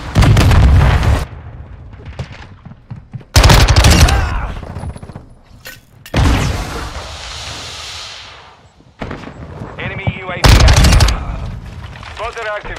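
Loud bursts of automatic gunfire and explosions in a Modern Warfare 2 hardpoint match, coming in several heavy clusters separated by quieter stretches, with muffled booms between.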